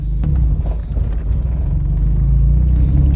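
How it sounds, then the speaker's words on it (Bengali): A car engine idles nearby with a steady low rumble that continues evenly, with no voices over it. "গাড়ি রানিং হয়ে গেছে"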